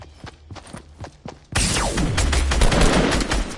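Dense rapid gunfire erupts in a battle royale video game after a few sparse shots, continuing loud and sustained with overlapping bursts.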